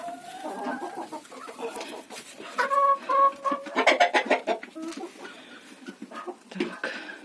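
Laying hens clucking in a coop with nesting boxes, a close cluster of overlapping clucks and short calls rising and falling over several seconds, with no talking.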